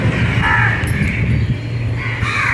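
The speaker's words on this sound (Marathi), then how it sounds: "कावळे चिमण्या कोकिळा चिव चिव चिव चिव चिव चिव चिव चालू असतं यांचं ऐकत असाल ना तुम्ही" Crows and small sparrows calling in a morning residential setting seen from a first-floor home, a busy layered chorus of caws and chirps running steadily throughout.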